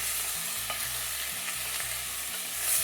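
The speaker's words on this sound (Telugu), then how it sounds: "ఇందులో అన్ని బోన్స్ వేసేయాలి. జస్ట్ నూనెలో కొంచెం ఇలా ఫ్రై చేయాలంటే" Chicken bones frying in oil for sweet corn soup, a steady close sizzle broken by rhythmic stirring scrapes and light clinks of the ladle, with no talking.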